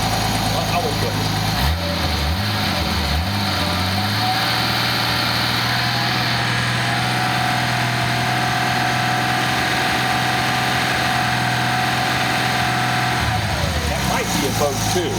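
A Nissan 280ZX turbo engine, fitted with a 300ZX Z31 turbo ECU and already warmed up, idling with a steady continuous hum close by, with a person talking over it.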